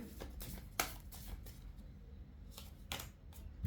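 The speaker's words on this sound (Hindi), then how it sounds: "पहले हम कार्ड्स पिक कर लेते हैं सारे" Tarot cards being picked and shuffled by hand, a soft papery riffle with several sharp snaps and flicks, close and quiet, with no talking.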